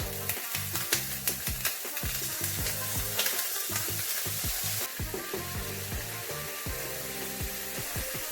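Scallops sear in a hot frying pan, a loud steady sizzle close by with crackling pops and scraping clicks throughout, no voices.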